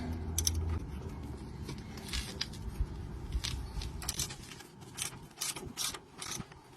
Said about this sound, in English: Next I'm going to undo this bottom bolt holding in the eye of the shock, which is a 19mm.